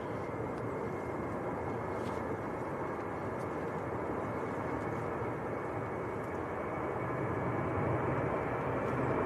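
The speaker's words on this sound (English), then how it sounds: "Next departure, just starting to roll. This is the Ryanair to Dubbers." A Ryanair jet with Maltese registration begins its takeoff roll at Manchester Airport on a windy day, a broad engine roar swelling steadily and growing slightly louder toward the end, with wind noise and no talk.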